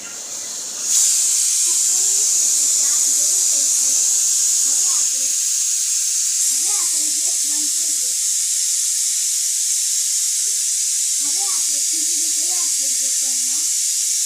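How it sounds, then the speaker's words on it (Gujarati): A pressure cooker cooking khichdi hisses steam in a loud steady rush that runs throughout, while a person talks intermittently beneath it. "કુકરનું ઢાંકણું બંધ કર્યું છે। હવે આપણે 4 થી 5 સીટી થવા દઈશું"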